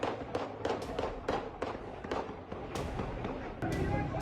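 Gunfire during a protest in Pakistan-administered Kashmir: a rapid, uneven series of sharp cracks and pops at mid distance, repeating through the clip over a dense background of crowd noise and voices.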